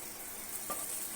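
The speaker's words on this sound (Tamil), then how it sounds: "நல்லா சோம்பு பொரியுது, நீங்களும் பாருங்கள்." Fennel seeds crackle and sizzle in hot oil for a brief moment, a faint, close hiss with a small pop or stir near the middle.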